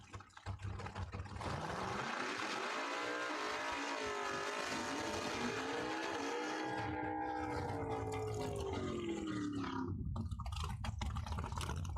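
Drag racing cars at Cordova Dragway in the small tire class roar down the quarter-mile track, one loud sustained engine howl rising and then falling in pitch as it passes close by.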